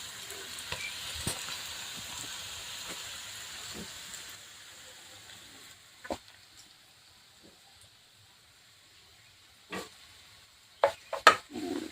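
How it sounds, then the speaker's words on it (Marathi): Coriander vadi (kothimbir vadi) fries in hot oil, giving a soft steady sizzle for the first few seconds that fades out, followed later by a few sharp isolated clinks and pops. "पूर्ण वडी मी असेच तळून घेते"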